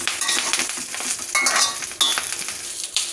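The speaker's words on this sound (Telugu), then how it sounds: "కరివేపాకు వేయించుకుందాం." Curry leaves fry in a little oil in a kadai, giving a continuous crackling sizzle with occasional stirring scrapes, close and fairly loud, with no voices.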